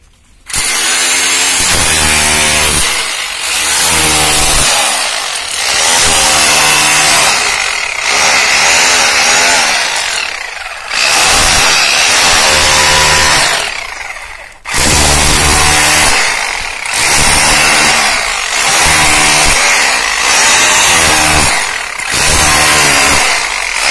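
An I bell hammer drilling machine bores a hole for a 2.5-inch pipe outlet, giving a loud, close, rough buzzing roar that runs in long bursts with short pauses between them.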